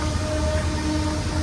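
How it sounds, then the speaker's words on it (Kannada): A train drawing into a station on a rail journey from Bangalore toward Dudhsagar, a steady low rumble with a faint sustained whine, loud and continuous throughout. "ಇನ್ನೊಂದು ಟ್ರೈನ್ ಬರ್ತಾ ಇದೆ"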